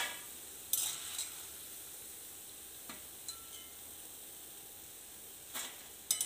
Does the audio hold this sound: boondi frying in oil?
yes